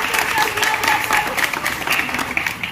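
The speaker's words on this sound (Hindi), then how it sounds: "अरे ताली बजा दो इसके" Dense, steady applause from an audience at a Hindi comedy stage drama, many hands clapping continuously and loudly for the whole stretch with no pause.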